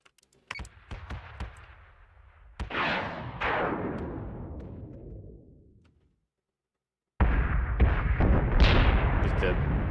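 Missiles launched in a Battlestar Galactica space combat game: sharp bursts of fire followed by long decaying whooshes, then a short silence before a loud new barrage of blasts.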